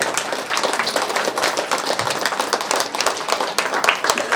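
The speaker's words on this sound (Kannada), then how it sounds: "ಓಕೆ, ಒಂದ್ಸರಿ ಜೋರಾಗಿ ಚಪ್ಪಾಳೆ." At a pyramid opening ceremony in Ballari, an audience claps loudly in a dense, sustained burst of many hands.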